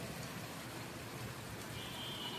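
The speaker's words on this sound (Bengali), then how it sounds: "মুষলধারে বৃষ্টি পড়ছে।" Heavy rain pours down steadily over a balcony garden, a dense, even hiss of countless drops with no pauses, moderately loud and continuous throughout.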